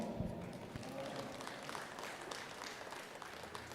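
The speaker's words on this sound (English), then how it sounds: "Let's give them one more round of applause" A crowd at a junior livestock beef showmanship event applauds the young showmen, a soft, distant, even patter of clapping with a voice briefly heard at the start.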